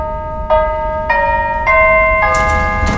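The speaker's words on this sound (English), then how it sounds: "I think that's the doorbell." A doorbell chimes loudly and clearly, four bright ringing tones in sequence, each note sustaining and overlapping the last.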